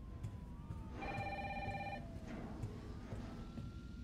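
A telephone rings in Resident Evil 3 Remake, a single electronic trill lasting about a second over low, steady background ambience.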